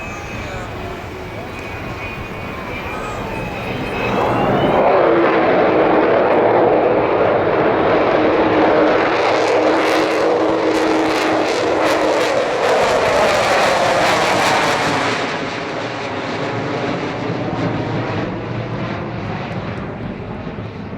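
Avro Vulcan bomber jet engines roar past in an air show flyby, a loud rushing swell that peaks for several seconds and then fades, while an announcer talks over it.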